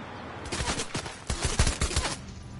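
Rapid gunfire in bursts, a series of sharp loud shots clustered close together with brief gaps between volleys.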